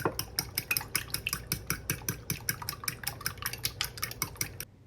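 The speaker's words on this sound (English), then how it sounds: "And then we season it very simple with a little bit of salt and also some fresh cracked pepper. And we'll go ahead and whisk." Eggs seasoned with salt and pepper being whisked in a bowl, a fast, regular run of bright clinking strokes from the whisk against the bowl's sides, close and clear, stopping abruptly at the end.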